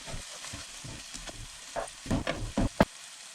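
Spinach and onions frying over low heat as a utensil breaks and stirs them in the pan, soft sizzling under a quickening run of scrapes and pushes that ends in a sharp clack; no speech.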